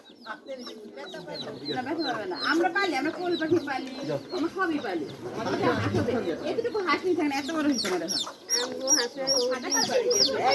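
A flock of chickens clucking nearby, busy overlapping clucks and cackles throughout, with people talking over them at times.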